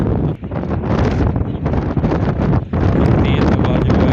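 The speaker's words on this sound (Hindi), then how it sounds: "तेज़ हवा जो है वो चलना शुरू हो गई है।" Strong gusting wind at the start of a storm buffets a microphone on a house rooftop, a loud roaring rush with brief dips and rustling, heavy and unbroken throughout.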